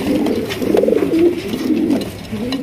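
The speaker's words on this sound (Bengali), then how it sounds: "আকর্ষণীয় একজোড়া কবুতর" Pigeons cooing up close, soft throaty rolling coos that rise and fall in two or three drawn-out phrases.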